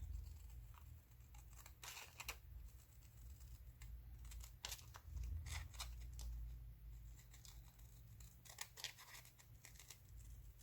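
Scissors cutting thin old magazine paper, a series of quiet, irregular snips and crisp paper rustles spread across the clip, close and faint with no talking.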